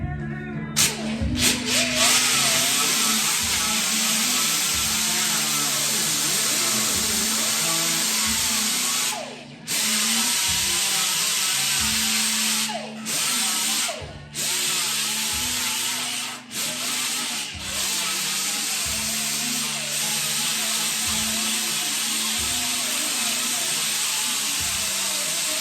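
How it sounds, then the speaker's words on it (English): A power grinder works on a race car body part being repaired with resin and mat, a steady loud abrasive whine and rasp running continuously with a few brief dips where the tool lifts off. "So just grind this out real quick."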